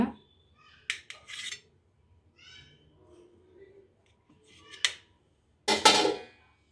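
A knife or utensil scrapes and clinks against a plate while a homemade soft, spongy cake is cut, giving a few sharp, close taps and scrapes separated by near silence.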